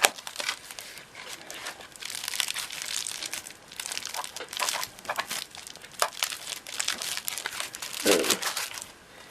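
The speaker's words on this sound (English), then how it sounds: "let's see how me and my trusty, or not so trusty, blunt scissors get on" Wrapped packaging being cut and torn open with blunt scissors, close crinkling and tearing in irregular bursts with short pauses between, fairly quiet.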